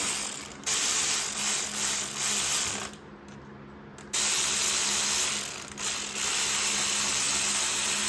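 Close, loud ratchet clicking runs almost without a break while snugging down the head bolts during a head gasket install on a 2015 Honda Fit, stopping briefly for about a second before starting again, with no speech.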